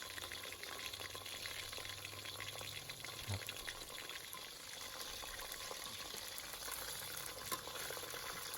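Chicken fries in hot oil, a dense, continuous crackling sizzle that holds steady and fairly close, with a faint low thump partway through.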